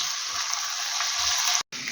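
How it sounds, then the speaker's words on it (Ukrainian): Minced meat and carrots frying in a pan, a steady broadband sizzle that runs without a break before cutting out briefly near the end. "тільки так, щоб м'яско змішалося з моркою, все смажу."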